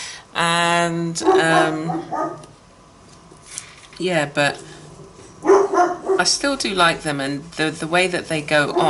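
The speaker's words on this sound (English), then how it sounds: "excuse the dog" A dog barks and yelps indoors at moderate distance during a pastel art review, its calls breaking in early and then sitting under steady talking.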